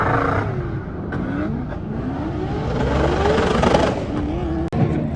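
A race car engine runs and revs repeatedly, loud rising and falling sweeps of the motor close by, with one abrupt cut-out near the end.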